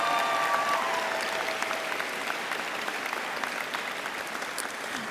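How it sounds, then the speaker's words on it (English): Audience applause for faculty at a university social work winter commencement ceremony, a dense, steady wash of many hands clapping that holds strong throughout and tapers only slightly toward the end. "let's give the faculty a round of applause"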